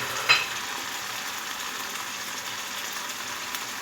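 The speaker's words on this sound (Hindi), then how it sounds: "ये सब चीज़ें डालने के बाद हम मसाले को अच्छी तरह से भून लेंगे।" Onions, garlic, ginger and spices frying in a pan, a soft steady sizzle with one brief clink of a utensil near the start, fairly quiet and without talk.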